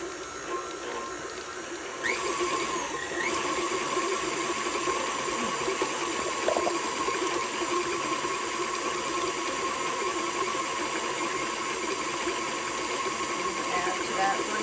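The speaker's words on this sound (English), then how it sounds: "So I'm going to turn the mixer on and blend all of those things" An electric mixer creams butter for cake dough, a steady motor whir that grows slightly louder after a couple of seconds and then holds an even, unbroken drone with no talking.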